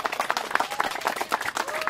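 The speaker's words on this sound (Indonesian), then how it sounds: "Tepuk tangan dulu untuk peserta." Applause from an audience of about ninety contest participants, a steady patter of many hands clapping close by, with a faint voice briefly audible beneath.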